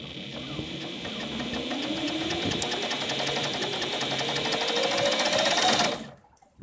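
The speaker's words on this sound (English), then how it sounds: "generation 2, the belt and pulley system." A homemade inboard boat drive with a belt and pulley system runs steadily, giving a close, even mechanical whir with a buzzing hum that holds for several seconds before cutting off abruptly near the end.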